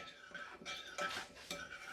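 Kibbeh mixture being stirred in a bowl with boiling water, giving a steady scraping, clinking stir of a utensil against the bowl, close and fairly quiet, with no talking.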